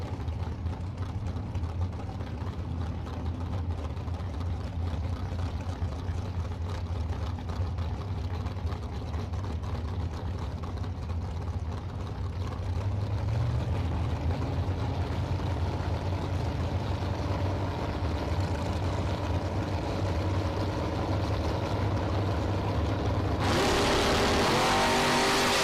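Drag race at a strip between a red Ford F10 pickup and a Mustang, a loud sustained engine roar that builds steadily, with a sharp surge in intensity near the end.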